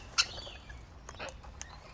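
Wild birds chirp with a few short, high tweets, one sharp call near the start and scattered fainter chirps after, over quiet background.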